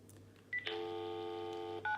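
Telephone keypad tones: a short beep, then a long steady dialing tone, then another beep near the end, close and clear over a faint hum, with no talking.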